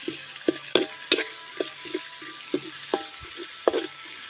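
Aromatics stir-fried in vegetable oil in a wok for a Thai chicken dish with pickled bamboo shoots and holy basil, steady low sizzle broken by sharp repeated scrapes and clanks of a spatula at an uneven rhythm, close up, no talking.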